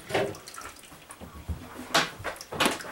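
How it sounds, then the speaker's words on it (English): Lye solution with undissolved bamboo silk being strained through a strainer while making vanilla coconut milk soap, heard as a few short splashing pours and drips in bursts, close by, with no talking. "now I'm going to strain in my lye because I have bamboo silk in there"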